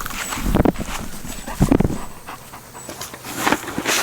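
Farm dogs panting close by in quick rhythmic bursts, mixed with a few footstep-like thumps and shuffling on the ground.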